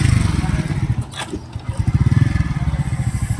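A motorcycle engine running close by during riding practice, a rough rhythmic chugging putter that dips briefly and then picks back up, with a voice speaking over it.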